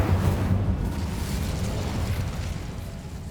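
Incendio fire spell cast in Hogwarts Legacy, a loud roaring burst of flame that starts at full strength and slowly tails off over a few seconds, with no talk over it.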